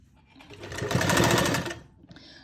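A sewing machine stitches a salwar seam, its motor whirring up in a single steady run of rapid needle strokes that builds and then stops, close and loud with no talk.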